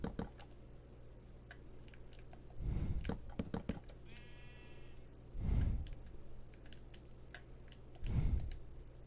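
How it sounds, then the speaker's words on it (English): Sheep bleating in a building video game, three short bursts spaced a few seconds apart over a quiet, steady background with faint clicks, no talk. "Let me put sheep in here and put a roof on it real quick."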